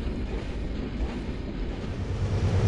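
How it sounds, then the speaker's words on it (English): Burlington Northern local freight train in a railroad simulation, pulling out of Mullan, Idaho, heading east: a steady low rumble and drone of rolling cars and engine, continuous and moderately loud, with no talk. "a Burlington Northern local freight train pulls out of Mullan, Idaho, and heads east"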